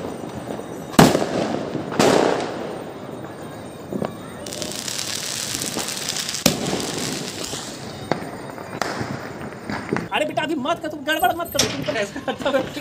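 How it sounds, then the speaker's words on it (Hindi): Diwali fireworks being launched in the town of Jamalpur, with sharp bangs and crackling bursts scattered through the clip, some loud and close, over a steady background of distant festive crackle and some voices. "ये देखिए हम किस तरह उल्का पिंड उड़ा रहे हैं।"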